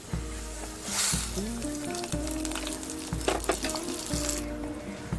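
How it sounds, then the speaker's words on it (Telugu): Hot tempering poured over a brinjal masala curry sets off a steady, loud sizzle and crackle of frying oil that holds evenly throughout, with no voices. "పోపు రెడీ అయిపోయింది ఇప్పుడు వంకాయ ఎంటేసుకున్నాం కదండి దాంతో పోసేసుకుందాం"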